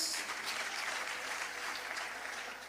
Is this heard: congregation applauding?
yes